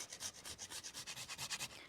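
Whole nutmeg grated on a fine rasp: a steady run of close, dry scraping strokes, roughly eight quick rhythmic passes, with no voices.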